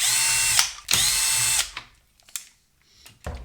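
A power screwdriver backs out the two screws holding the 3.5 mm mini jack input on a Bang & Olufsen Beomaster 3500 receiver: two long, steady whirring runs close by, then a few faint clicks and taps, with no talking.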